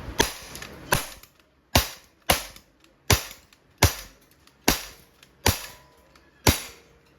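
An Umarex airsoft Glock 17 Gen 5 CO2 pistol fires nine sharp, loud cracking shots at a steady, roughly even pace, each a crisp snap with a short decay.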